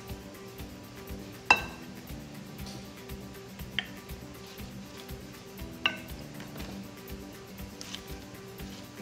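A utensil stirs steak egg roll filling in a pan, with sparse bright clinks and taps against the metal at irregular intervals over a soft background hum.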